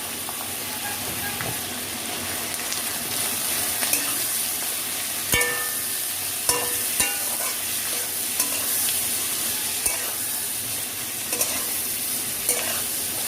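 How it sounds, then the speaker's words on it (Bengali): Five medium onions fry in a hot pan with salt and turmeric for a red chicken and potato curry, giving a steady loud sizzle and hiss broken by sharp scrapes and knocks of stirring. "পেঁয়াজটাকে একটু ভাজা ভাজা করে নেব।"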